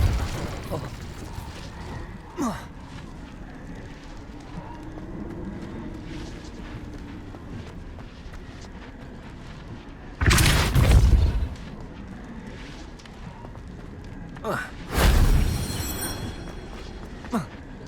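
Spell effects in the Hogwarts Legacy game, including Revelio and Incendio casts: deep booming bursts with crackling flares erupt twice over a low ambient hum, punctuated by a few smaller whooshes and clicks.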